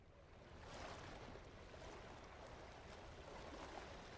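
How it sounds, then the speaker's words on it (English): Waves washing against rock in a climbing video game, a steady, soft, hissing surf wash kept at low volume, continuous and alone with no talk. "The relaxing sound of the waves hitting the rock?"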